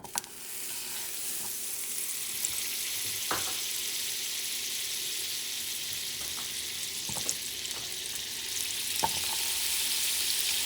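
Butter sizzling in a hot pancake pan on low heat: a steady, hissing fry that holds for the whole stretch, with a few faint clicks and taps of the pan or utensil, moderately quiet and close.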